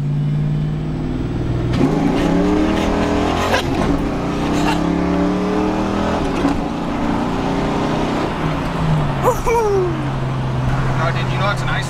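A 1993 Ford Mustang Foxbody V8 revving hard and accelerating, its loud engine rising and falling in pitch through several pulls at close range, with voices talking over it.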